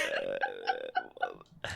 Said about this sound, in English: I'm getting heartburn and burping.